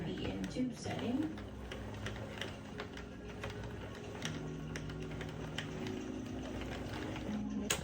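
A Sentro knitting machine being hand-cranked in tube setting produces a soft, continuous clicking and rattling at close range, with a person talking over it.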